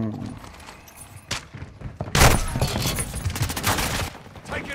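Rapid bursts of automatic gunfire in Call of Duty Modern Warfare 2 multiplayer on the Shipment map, loud and close, with thuds and booms piling into a dense barrage after a quieter opening.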